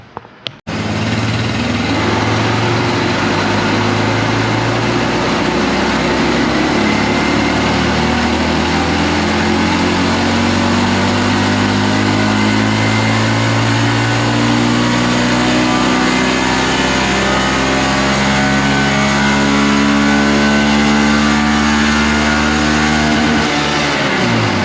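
A 2022 Honda Grom motorcycle engine with a Backfire screen and airbox lid removed runs hard on a dyno, a loud continuous rev climbing steadily in pitch through the gears for over twenty seconds, close and unbroken.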